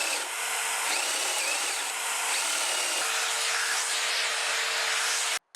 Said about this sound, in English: I used a 25mm wood drill bit, putting a bit of duct tape on the drill, as you can see here, to crudely set the depth that I needed to drill the hole to